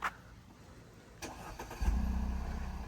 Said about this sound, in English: Let's get a startup of your chopped off 4-cylinder exhaust.